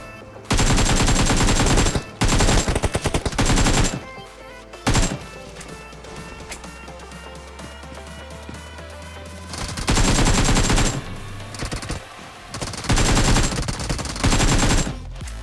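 AKM rifle gunfire in BGMI comes in loud, close, full-auto bursts of a couple of seconds each, separated by quieter game sounds and pauses, with several bursts at the start and end.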